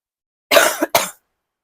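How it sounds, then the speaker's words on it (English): Two harsh coughs close to the mic, the first longer and rough, the second a quick follow-up, with silence before and after. "oh my god, stop coughing"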